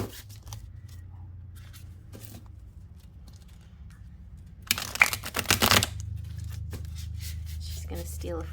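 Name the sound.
shuffling cards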